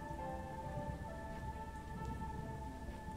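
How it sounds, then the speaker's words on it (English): Steady rain in the video game Starbound, a continuous soft hiss with muffled low rumble, heard from underground near the surface; a few sustained game-music tones ring through it, and nobody talks. "I think, because I can hear the rain."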